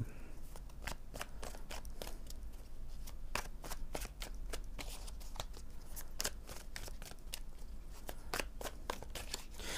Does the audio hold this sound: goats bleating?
no